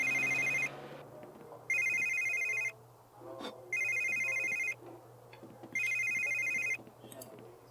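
A telephone rings in The Sims 3, four loud, evenly spaced electronic trills about a second long each, separated by short pauses with quiet background game sounds and a low hum underneath.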